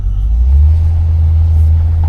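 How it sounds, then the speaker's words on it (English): A 1975 Pontiac Grandville with a 455 V8 engine idling, a loud, steady low rumble close by with no change in pitch or level. "This is the 455, so the 455 definitely moves these Grandvilles with zero issues"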